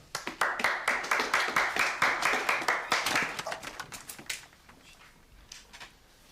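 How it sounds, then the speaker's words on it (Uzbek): Classmates clapping in a school classroom, a burst of quick rhythmic hand claps from a small group that thins out and fades to scattered claps and quiet. "Qani qarsaklar?"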